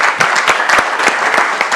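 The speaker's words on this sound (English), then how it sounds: "So a round of applause" Short burst of audience applause at a decentralized-web conference in Lisbon, a steady patter of clapping hands with a few sharper individual claps standing out, close and moderately loud.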